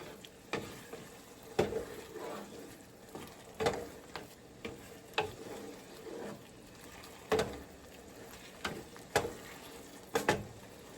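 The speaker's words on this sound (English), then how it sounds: "I'm getting ready to stir in the 1 cup of broth in here" Spoon stirring broth into mushroom risotto in a pan, a soft bubbling simmer punctuated by a series of sharp, irregular scrapes and clacks against the pot, close and fairly quiet.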